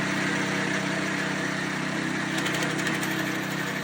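The petrol engine of a log splitter runs at a steady, loud, close drone with even mechanical vibration and no pauses.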